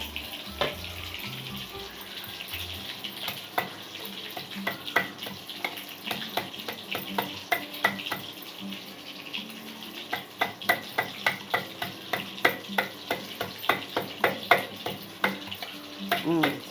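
Food fries quietly in a pan for a Mysore dal and egg fry, a low sizzle under a run of sharp, quickening clicks and taps of a utensil turning the pieces toward the end.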